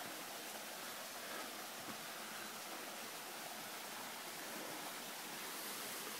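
A waterfall roars steadily and loudly, a dense broadband rush of falling water that stays constant throughout with no voices.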